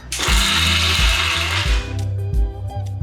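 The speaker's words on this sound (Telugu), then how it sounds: "మిక్సీ పట్టేద్దాం" A kitchen mixer grinder blends onion chutney with garlic, chili powder and salt, a loud whirring roar with rhythmic thumping pulses that eases off and continues more quietly toward the end.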